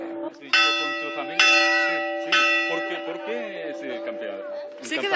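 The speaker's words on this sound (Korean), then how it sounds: "이곳에 온 여행자라면 누구나 교회종을 울리고 갑니다" A church bell in a mountain sanctuary in the Spanish Pyrenees is struck several times, each ring a loud, bright metallic clang that blooms with rich overtones and hums as it decays, while people chatter faintly in between.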